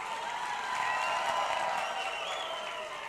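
A hall full of people applauds steadily at a university convocation, a dense, sustained wash of clapping with no breaks, loud and fairly near.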